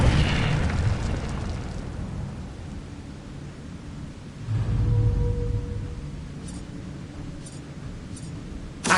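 An Incendio fire spell in Hogwarts Legacy bursts with a booming whoosh, a low rumbling blast rising mid-clip among other spell effects, with faint zaps and a sharp pop at the end.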